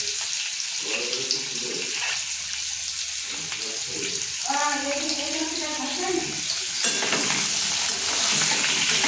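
Papaya and potato frying in a pan, with a steady sizzle that runs throughout and swells louder in places, heard over faint background sounds and no talk.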